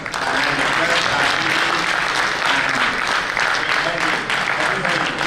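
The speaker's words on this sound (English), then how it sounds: "Please give a round of applause for our President, Mr. Pawan Khaitan" Audience applauding for a president at a concluding session, a dense, steady wash of clapping that runs loud and continuous throughout.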